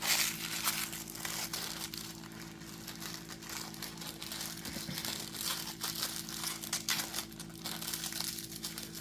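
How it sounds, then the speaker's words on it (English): Plastic piping bag handled while decorating a resin 3D bloom, giving steady close crinkling and rustling that runs throughout with a constant low hum beneath and no talk. "now I've got my piping bag ready."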